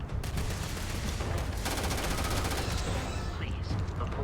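Rapid gunfire rattles almost without pause through a combat scene in the space video game Starfield, loud and dense throughout, with bursts overlapping one another.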